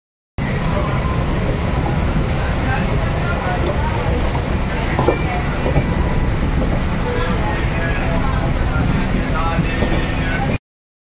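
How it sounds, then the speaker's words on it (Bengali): Passenger train running on the Ujjain to Indore line as it pulls into Dewas Junction, a steady loud rumble of wheels and carriage noise lasting throughout, heard from inside the coach. "এবার দেওয়াস জংশনে আমাদের ট্রেন ঢুকছে"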